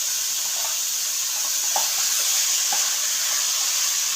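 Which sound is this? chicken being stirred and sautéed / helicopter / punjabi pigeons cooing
chicken being stirred and sautéed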